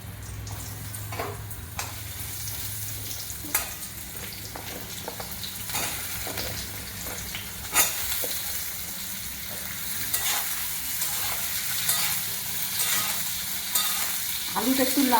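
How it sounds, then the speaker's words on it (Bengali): Potato pieces frying in oil in a pan, a continuous crackling sizzle broken by regular scraping and clacking strokes of a stirring spoon, close and clear, with no voices. "আলুটা একটু লাল হয়ে ভাজা হলে তারপরে আমি ঝিঙেটা দেবো"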